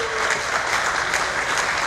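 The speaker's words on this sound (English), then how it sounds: "Give him a big round of applause." Dense clapping from an audience at an international invitational barbecue competition, steady and fairly loud throughout, a broad wash of many hands with no talk over it.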